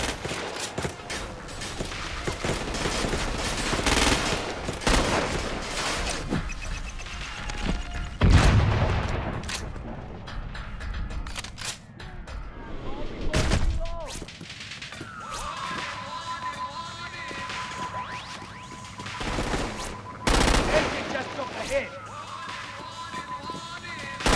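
Gunfire in the video game Crackdown 2: repeated sharp shots and bursts of automatic fire with loud booms and crashes, close and dense throughout, with steady electronic tones in the background and no talking.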